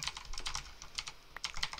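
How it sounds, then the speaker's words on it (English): Rapid, uneven keyboard mashing during a Bedwars game on the Hive server, a dense run of close, crisp key clacks in irregular bursts with brief lulls, no voices. "Keyboard mashing."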